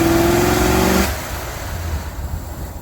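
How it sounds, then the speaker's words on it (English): A Mopar 318 5.2-litre V8 with a misfire and a missing map sensor drives along, its engine loud and close at first with an uneven drone, then dropping to a quieter rumbling roll. "Now I got a misfire and no map sensor"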